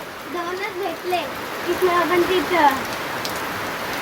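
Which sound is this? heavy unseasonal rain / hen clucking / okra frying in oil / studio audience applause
heavy unseasonal rain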